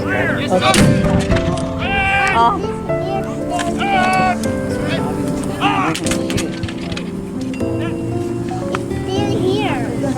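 Cannon fire booms out at a Civil War reenactment amid lively chatter and children's voices, with sharp blasts cutting through the ongoing talk outdoors.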